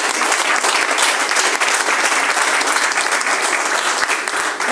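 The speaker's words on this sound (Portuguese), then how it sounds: "Vamos dar palmas para Jesus Cristo" A church congregation clapping for Jesus Christ during a Pentecostal worship service, loud, dense and sustained applause filling the room without a break.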